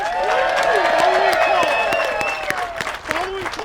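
A crowd at the 2021 Disc Golf World Championships in Arizona applauds and cheers for disc golfer Paul Ulibarri, a steady wash of clapping heard alongside an announcer's amplified voice.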